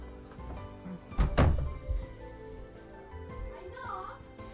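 A knock on a door in The Fruit of Grisaia visual novel, a single dull thud that stands out briefly against background game music and voices.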